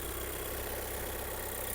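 A 2022 Skoda Octavia A8 First Edition engine idles with the hood open, a steady, even hum heard up close, with no talk over it.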